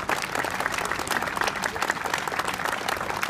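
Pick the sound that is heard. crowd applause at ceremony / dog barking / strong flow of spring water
crowd applause at ceremony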